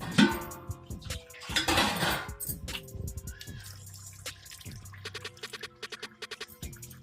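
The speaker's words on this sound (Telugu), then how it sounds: "వాటర్ అంతా కిందకి దిగిపోతుంది" Water splashes and drains through a metal colander as cold water rinses cooked vermicelli, with clattering of kitchenware, followed by a run of quick, light drips and taps.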